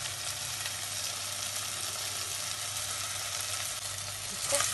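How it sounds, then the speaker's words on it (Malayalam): Onion and tomato sautéing in a pan for a Palakkad-style Kerala fish curry, a steady, faint hiss of sizzling with a brief stirring scrape near the end. "ഓണിയനും ടൊമാറ്റോയും ഇട്ട് വഴറ്റുമ്പോൾ നല്ലപോലെ അത് വേകണം"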